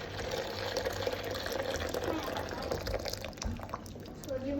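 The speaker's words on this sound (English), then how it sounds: "So I've just boiled the kettle, got some hot water in here." Hot water from a just-boiled kettle poured into a container while working on a Mk1 Ford Fiesta coolant system, a steady close splashing, trickling flow that continues throughout with faint background noise.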